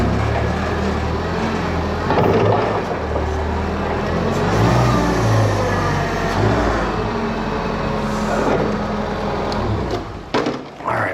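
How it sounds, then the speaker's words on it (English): A forklift engine drones loud and steady up close while the machine rides onto a truck's lift gate during loading on a farm, rumbling and revving for about ten seconds with a few knocks near the end. "See, the forklift rides right up on top of that lift gate, no problem."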